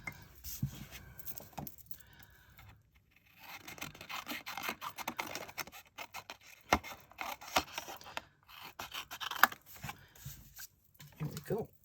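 A cardstock strip is trimmed in a paper punch, heard as close, intermittent scraping, rubbing and crisp cutting sounds in short irregular bursts with brief pauses in between.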